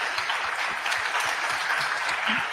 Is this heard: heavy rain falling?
no